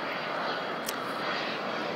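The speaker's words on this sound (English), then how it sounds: "here comes a plane now." An airplane passes overhead as a broad, steady roar with no other sound, loud and close for the whole two seconds.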